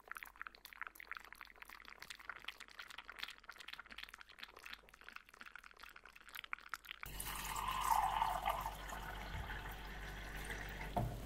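Warm water is poured into a vessel in a quiet ASMR setting: near-silent soft handling first, then a sustained close trickle and splash of liquid for the last few seconds.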